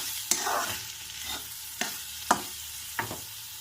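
Green chilies frying in a pan with chili powder and salt for a meal maker curry: a steady low sizzle under several sharp scraping stirs of a spoon against the pan, with no talking.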